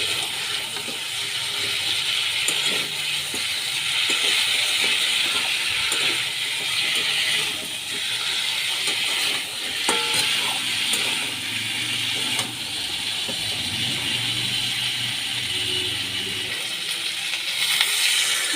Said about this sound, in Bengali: মাছ দিয়ে আমি ভালো করে কষিয়ে নিচ্ছি।